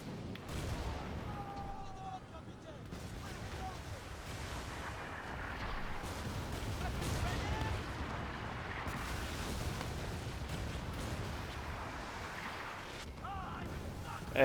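Corvette ship cannons firing at enemy ships in the Skull and Bones naval combat game, a steady rumbling barrage of booms and blasts sustained throughout, with a voice talking faintly underneath.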